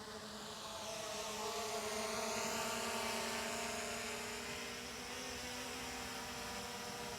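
A DJI Mini 5 Pro drone hovers and moves about before landing, its steady whining propeller buzz with strong tonal hum lines holding throughout, swelling slightly in the middle, fairly close and with no talking.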